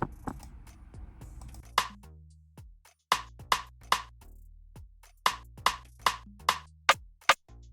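A second rim sound from the 7th Beats drum kit taps out a syncopated pattern of crisp, woody clicks over a deep bass backing, close and prominent, with no voices.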